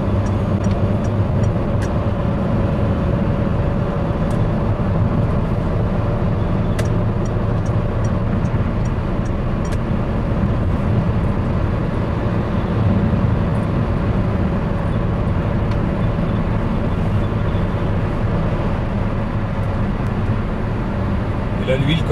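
Peugeot 407 V6 engine pulling under acceleration from inside the cabin, a steady low droning hum with road rumble that holds evenly throughout.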